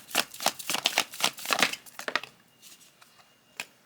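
Tarot cards being shuffled by hand: a run of quick, papery riffling bursts up close, then tapering off to quieter scattered card taps and a final soft slap, with no talking.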